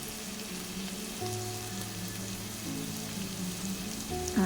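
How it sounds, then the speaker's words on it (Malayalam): Sliced ginger and garlic sautéing in oil in a pan for Kerala-style fish curry, a soft steady sizzle close by with quiet clinks and stirring, no talk. "കുറച്ച് നേരം വഴറ്റിയ ശേഷം അതിൻ്റെ കൂടെ അരിഞ്ഞ് വെച്ച് ചെറിയ ഇഞ്ചി നീളത്തി അരിഞ്ഞത്, പിന്നെ 4-5 അല്ലി വെളുത്തുള്ളിയും കൂടി ചേർത്ത്"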